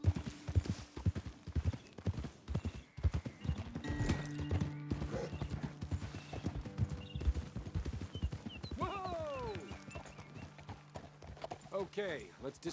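Horse hooves clip-clop steadily in Red Dead Redemption 2, a dense rhythmic trotting beat with occasional whinnies, running alongside in-game character talk and background music.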